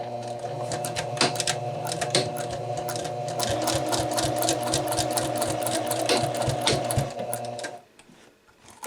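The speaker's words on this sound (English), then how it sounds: "I'll go over everything as close as I can get to my garment fabric without actually stitching into it." A sewing machine stitches a bound buttonhole sample on garment fabric, running steadily and close for about eight seconds with the even whir of the motor and rapid needle ticks, then stopping and leaving the room quiet.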